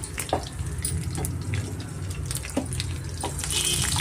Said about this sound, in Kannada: ಎಣ್ಣೆ ಕಾದಿದೆ ಸ್ವಲ್ಪ ನಾನು ಕರಿಬೇವು ಸಾರಿ ಸಾಸಿವೆ ಸೇರಿಸ್ಕೊತಾ ಇದ್ದೀನಿ